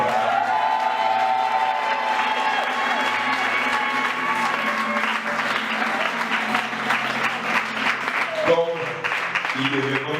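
A church congregation applauds and cheers in praise of Jesus during a service, with loud, sustained clapping, whoops and voices mixed in, swelling and continuing throughout while people call out and talk over it.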